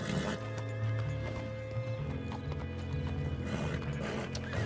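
In the Red Dead Online game, a horse being broken bucks with rapid, heavy hoofbeats and loud whinnies over a dense, busy game soundscape, with no speech.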